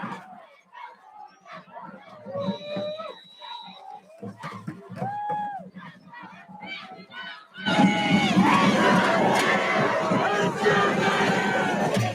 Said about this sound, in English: Crowd chant, hit somebody